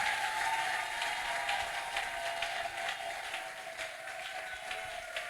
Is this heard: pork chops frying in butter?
no